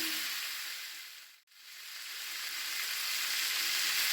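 Olive pickle with salt in a pan, a continuous soft sizzle that cuts out briefly before resuming and slowly building in level.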